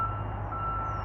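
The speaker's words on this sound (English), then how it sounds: "Sorry if you can hear a lot of beeping and noise." A steady electronic tone from reversing beeps held over the low rumble of a nearby truck engine.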